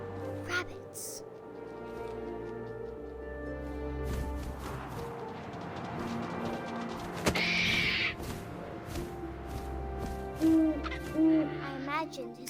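Owl hoots in the game What Remains of Edith Finch, a couple of soft low hoots set against wind and ambient game music, with a narrator speaking over much of it.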